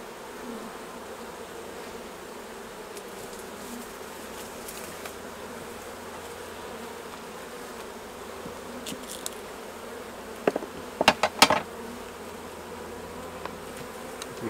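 Honey bees buzz around a hive during a honey harvest, a steady continuous drone throughout with a few sharper nearby passes and knocks toward the end, no talking.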